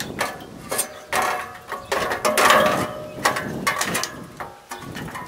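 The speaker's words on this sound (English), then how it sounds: "tighten back up the set screws" A ratchet tightens the set screws holding the fan blade on an AC condenser fan motor, giving a series of quick, close mechanical clicks and short ratcheting bursts with brief pauses between them.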